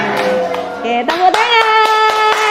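Children clap their hands in a classroom under a sung chant, with several sharp claps standing out against the melodic voices.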